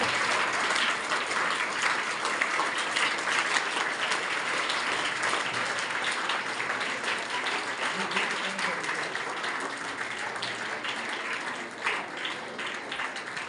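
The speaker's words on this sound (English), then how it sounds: "Let us all encourage them with a huge round of applause as they step." A hall full of people claps steadily at a school prize and prefect badge ceremony, a dense, even round of applause that carries on without a break for the whole stretch and eases off slightly near the end.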